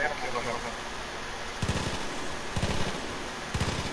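Gunfire in the video game Far Cry 5: three short bursts of rapid shots, fairly distant and quiet, spaced about a second apart over a low ambient game backdrop.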